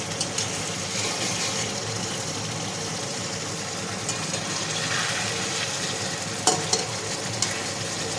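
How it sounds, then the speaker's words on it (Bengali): Pomfret fish curry simmers in a pan with a steady, even bubbling and sizzling hiss throughout, broken by a few faint utensil clicks near the end. "এবার আমি কিছুক্ষণ রান্নাটা করব, মানে ভালো করে ফুটতে দেব।"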